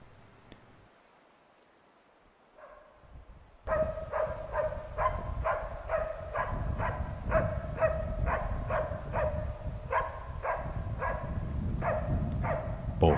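A Finnish Spitz hunting dog barks in the field after a few quiet seconds, a long run of fast, evenly spaced barks, loud and close, repeating steadily to the end.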